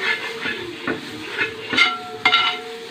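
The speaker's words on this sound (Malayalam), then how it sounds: "മല്ലിച്ചപ്പും പൊതിനെയും നമ്മൾ ഇടാം കേട്ടോ ഒന്ന് ഇളക്കി വാക്കി" Chicken curry being stirred in a pan right after coriander leaves and mint go in, with a soft steady sizzle and a few scraping strokes of the spoon, near and fairly quiet, no talk.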